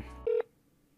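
A single touch-tone telephone keypad beep from a phone dialing a number, one short clear tone following a brief fading hum, then near silence.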